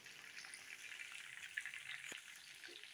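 Chicken wings frying in oil over a low flame, a steady soft crackle and sizzle close by with no voices, plus a brief knock near the end.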